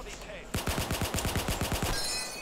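Automatic gunfire in the Roblox-style shooter Arsenal, a rapid burst of about a dozen evenly spaced shots, loud and close, followed by a brief mechanical tail.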